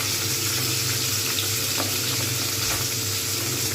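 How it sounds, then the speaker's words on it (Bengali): Pabda fish frying in a pan of hot oil, a loud, dense sizzle that holds steady the whole time, with no one speaking over it. "সাবধানে মাছটাকে এখানে ছেড়ে দিতে হবে। আমি একটা একটা করেই ভাজবো"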